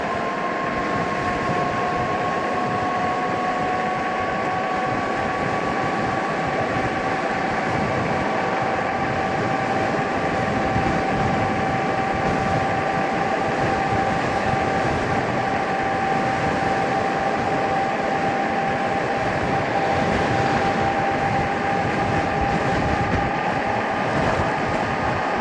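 An E-Cells Dual Star electric scooter ridden at full throttle gives a steady, loud motor whine that holds a constant pitch, mixed with continuous rushing wind noise throughout.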